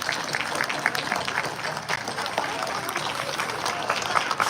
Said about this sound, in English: I'd like to give you all a hand of an applause, and if we can, a standing ovation.